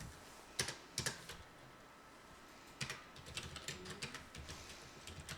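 Computer keyboard keys pressed while entering data in an Excel spreadsheet, a few separate clicks followed by a quicker run of light, close taps.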